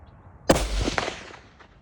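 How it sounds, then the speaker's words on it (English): A single sharp rifle shot from a Savage rifle aimed at a stick in a pond, a loud crack with a short echoing tail that fades within a second. "Let's shoot it again."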